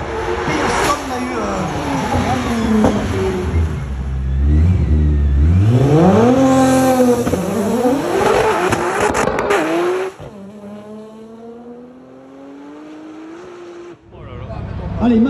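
Audi and Subaru rally race cars accelerating hard up a hill climb on Réunion, engines revving through rising gear changes, loud and close, with a commentator talking over them before the sound drops away near the end.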